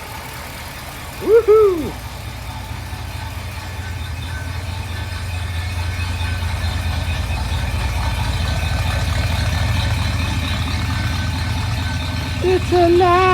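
A 1962 Ford Thunderbird engine idles steadily at close range, a continuous low rumble that swells slightly midway, with a brief excited shout near the start and a voice at the end.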